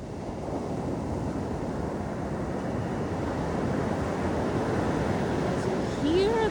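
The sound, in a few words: ocean waves on a beach, La Playa Negra, Costa Rica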